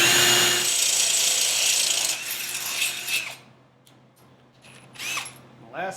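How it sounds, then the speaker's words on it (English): A power drill whirs loudly while boring holes in a motorcycle fender, then winds down, followed by short bursts of drilling and faint mechanical clicks. "So let's get the holes drilled in here."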